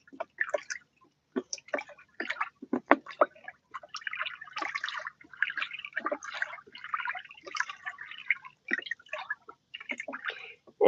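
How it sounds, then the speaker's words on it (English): Paint being stirred into hot water in a container for dyeing fabric seat covers gives close, intermittent liquid sloshes, drips and trickles in irregular bursts. "All right, let's stir really well."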